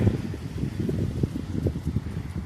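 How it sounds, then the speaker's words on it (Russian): Strong gusting wind buffets the microphone outdoors in Poland during a severe windstorm, a continuous low roaring rumble with uneven surges, loud and close, with no talking. "Фух, но ветер, конечно, сильный очень."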